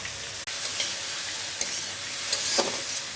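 Fish roe frying in a pan with chili powder and turmeric, giving a steady close sizzle with a few soft stirring scrapes and no voices.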